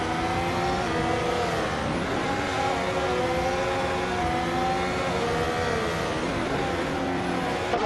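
Several racing car engines, including a 2018 McLaren MCL33, roar together at the start of a video-game race at Circuit Paul Armagnac. The dense, rising engine drone stays loud and steady throughout, with no talk.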